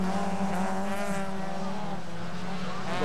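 Rallycross cars race at a Swedish-Norwegian championship meeting at Arvika, the engines holding a loud, steady drone with layered harmonics throughout, the pitch rising and falling slightly.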